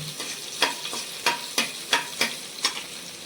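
Chopped garlic crackles and sizzles in oil in a pan, with a handful of sharper spits and pops standing out every half second or so, close and fairly quiet.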